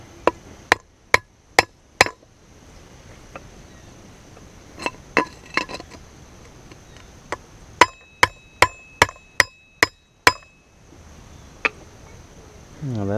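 Sharp metallic hammer blows driving a wheel bearing on a Yamaha Raptor 660 quad's front hub, struck in quick bursts of four or five hits with short pauses between, loud and close, no talking.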